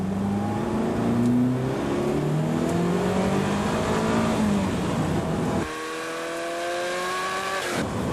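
A Ferrari F40 accelerates hard around the Ferrano circuit in the wet, its engine note rising through several gear changes before dropping sharply near the end, loud and close throughout.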